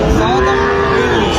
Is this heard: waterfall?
no